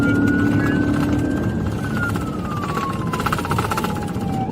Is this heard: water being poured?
no